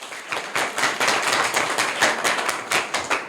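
Schoolchildren and teachers at a government school quiz clap loudly for a girl, close, crisp hand claps in a busy irregular burst lasting a few seconds.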